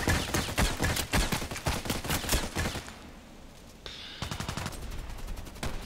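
Rapid automatic gunfire in a shooting video game rattles out in fast bursts, dropping to a brief lull before another burst of shots resumes, loud and close with no talking.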